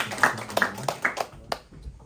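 A few hands clap at a youth church service, a sparse, uneven handful of claps that fades out within about two seconds.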